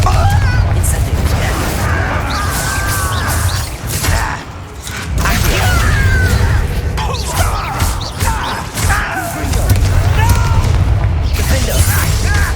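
Incendio fire spells burst in a Hogwarts Legacy battle in a dark mine: repeated booming blasts and crackling mechanical clatter, loud and dense, with shouted voices over the combat.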